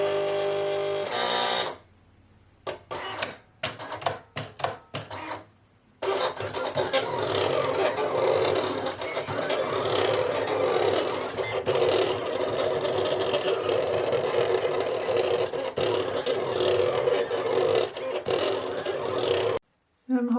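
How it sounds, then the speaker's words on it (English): A Silhouette sticker cutting machine running its first cut alongside a printer, a steady, loud mechanical whirring with brief stop-start bursts before it settles into continuous operation. "I'm just gonna try the Silhouette Studio and the machine for the first time together with the printer"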